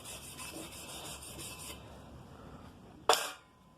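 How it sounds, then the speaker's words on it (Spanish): A brush scrubbing an aluminium surface to prepare it for soldering gives a quick run of faint, rhythmic rasping strokes, then a pause and a single sharp click near the end. "Vamos a cepillar la zona."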